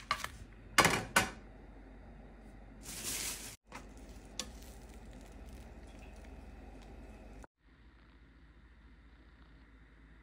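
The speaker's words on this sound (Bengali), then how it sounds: "আর এই যে আমি এই সেটে রুটিটা ভেজে নিচ্ছি।" Roti flatbread frying in a hot pan at home: steady close sizzling with sharp bursts of crackle and occasional clatter of utensils, a brief pause partway, then a quieter continuous sizzle.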